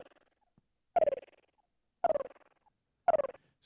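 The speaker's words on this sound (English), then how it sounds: "So this is a sound of a whale." A whale call from a sound library: three separate low, groaning calls that each slide downward in pitch, spaced about a second apart and heard alone against silence.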